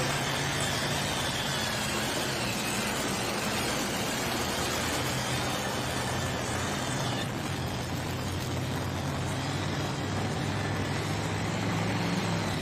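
The engine of the pulling tractor Yield Express, a Grand National Champion, roars loud and steady at a tractor pulling championship, a continuous dense rumble with no break.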